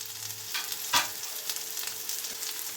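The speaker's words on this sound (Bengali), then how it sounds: "প্রথমেই দেবো আলু আর কুমড়ো, একটু ভেজে নেবো" Potatoes and pumpkin fry in a pan with an even, hissing sizzle and one brief scraping stir near the start.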